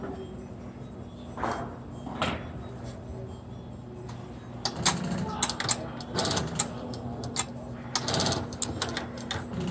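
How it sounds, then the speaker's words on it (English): A sewing machine stitches a fabric face mask over a pipe cleaner, running in short bursts of mechanical whirring and rattling separated by brief pauses, close and fairly quiet. "when you sew over it, you're going to want to sew right over the pipe cleaner to secure it in there"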